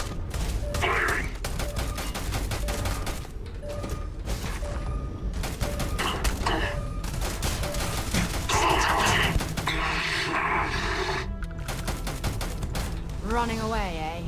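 Gunfire in the video game Starfield, rapid bursts of shots and thuds running continuously under game music and effects, loud and dense throughout with a whooshing sweep near the end.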